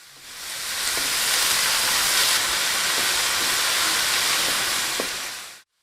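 Chopped onions, about half a kilo, sizzle and hiss steadily in a hot pan of ghee with cumin for a zucchini curry, a loud continuous fry with faint clicks and no talk, cutting off abruptly at the end.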